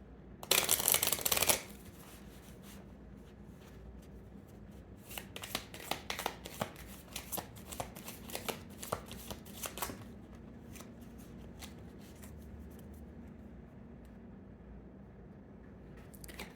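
Oracle cards shuffled by hand in a tarot reading: a loud riffling burst at the start, then a stretch of quieter soft card slaps and rustles in an irregular rhythm, no voices.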